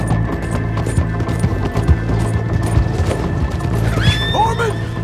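A horse in the video game Red Dead Redemption 2 lets out a clear rising whinny near the end, over a steady rumble of clip-clopping hooves and outdoor game ambience.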